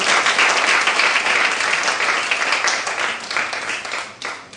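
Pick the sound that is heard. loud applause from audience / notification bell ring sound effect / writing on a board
loud applause from audience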